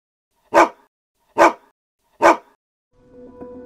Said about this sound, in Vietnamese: Dù chú chó mới này rất giống Rocky như tạc, từ màu lông cho tới màu mắt